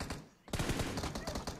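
Gunfire in the BGMI battle-royale mobile game, a dense burst of rapid shots erupting after a brief quiet gap and continuing steadily and loudly, with automatic-weapon rattle throughout.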